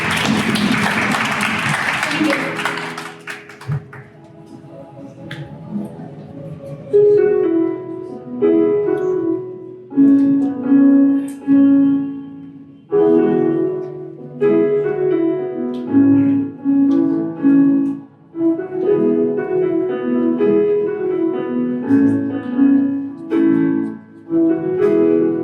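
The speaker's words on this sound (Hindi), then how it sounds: "परमेश्वर के लिए चलिए हम जोरदार ताली" A church congregation claps loudly for God during worship, a dense burst of applause for about three seconds that fades as music begins.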